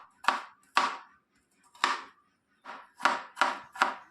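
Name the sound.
knife chopping carrots and cucumbers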